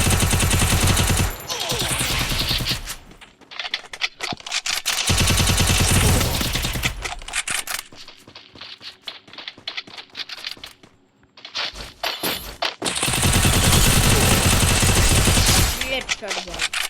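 A CMP submachine gun fires in Free Fire as long, loud automatic bursts separated by quieter gaps, with someone talking over the gameplay.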